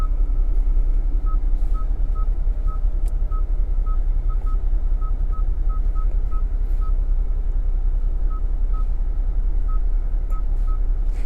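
A 2023 Kia Stinger GT2 AWD cabin holds a steady low road rumble while short, soft electronic beeps tick repeatedly at an even, quick rhythm through most of the stretch.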